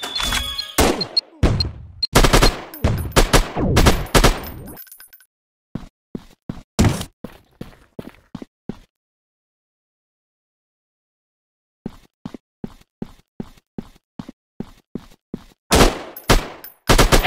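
Bursts of rapid gunfire from an action video game, loud sharp volleys and single cracks in clusters, separated by a few seconds of silence, with no talking.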